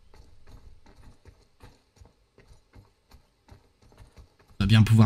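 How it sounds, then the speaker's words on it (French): Horses trot with a steady clip-clop in the medieval video game Robin Hood: Sherwood Builders, a quick run of light rhythmic hoofbeats that ends in a sudden loud burst of sound. "Des chevaux, hein."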